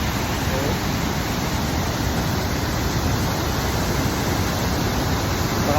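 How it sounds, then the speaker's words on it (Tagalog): Manitou Falls waterfall roaring with rushing water, a dense, loud, steady broadband wash that stays constant throughout with no pauses. "Lakas ng ragasan ng tubig mga idol"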